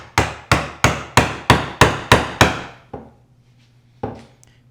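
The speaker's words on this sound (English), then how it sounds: "Now I'm going to go in there, turn my chisel the other way, and I'm going to start following" A mallet drives a chisel into wood to cut a through-wedged mortise: eight sharp, evenly spaced knocks in quick succession, then a lighter tap, a pause and one more strike, close and loud in a quiet shop.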